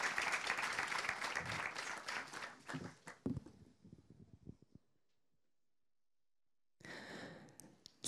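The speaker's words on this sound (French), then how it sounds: "On peut les applaudir." An audience at a talk gives brief applause, clapping loudly for a few seconds, then thinning to scattered claps before falling silent, with a short burst of noise returning near the end.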